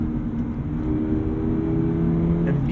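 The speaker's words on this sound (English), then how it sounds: "Gonna feed in the throttle here." A 2022 Toyota GR86 engine revs under throttle, a steady close drone with its pitch climbing and shifting slightly over the few seconds, no voices.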